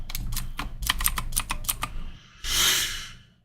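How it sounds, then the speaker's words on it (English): Rapid, loud keyboard typing with uneven clattering keystrokes for about two seconds, followed by a brief broadband rushing burst before it fades. "I'm blinded by a very loud typing"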